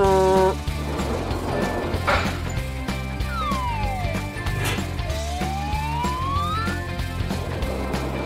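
A cartoon police car siren wails in rising and falling sweeps over a busy animated soundtrack with music and clip-clop effects, loud and close throughout.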